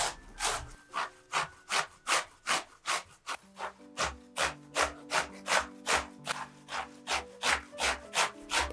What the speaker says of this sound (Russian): Я беру кабачок и тру его на крупной терке.